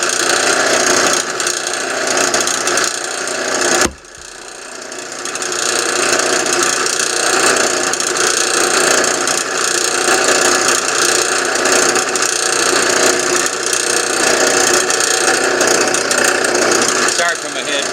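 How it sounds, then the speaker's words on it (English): A power drill whirs loudly and continuously while crafting a golf club, briefly cutting out once before spinning back up and running steadily again. "So now I'm going to turn the drill on."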